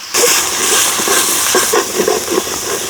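Spices sizzling in soybean oil with onion paste, garlic paste, ginger paste, cumin and coriander powder as a meat curry base is started, a steady close frying hiss with faint stirring clicks and no talk.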